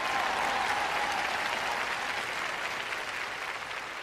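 Steady, dense applause from a large congregation during a sermon, a broad, even wash of clapping that holds for several seconds with no speech over it.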